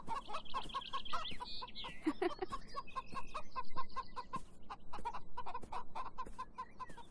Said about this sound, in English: she's definitely letting the chooks out